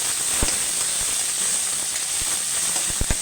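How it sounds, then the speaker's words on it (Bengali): Ginger paste fries in a pan for a potato curry, giving a steady close bright sizzling hiss broken by a few sharp little pops, with no talking. "আদা বাটাটা দিয়ে দিচ্ছি একটু নিয়ে ভালো করে ভেজে নেবো"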